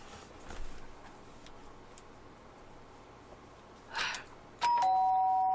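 A doorbell rings in the video game Danganronpa: Trigger Happy Havoc, a short chime sounding near the end over quiet ambience after faint ticking.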